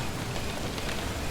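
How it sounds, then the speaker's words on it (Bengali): Steady, dense rain pours on a village dak bungalow at Chhatimpur, a continuous close hiss of falling drops with no voices, serving as a horror-story sound effect. "তৃতীয় দিন বিকেল থেকেই আকাশ কালো করে বৃষ্টি শুরু হলো।"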